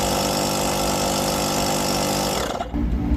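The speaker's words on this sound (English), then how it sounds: "To start it, you hold the pump button." LOKITHOR JA3000 portable jump starter's built-in air compressor pump running with a steady, loud, close mechanical drone and buzz, dipping briefly near the end before resuming.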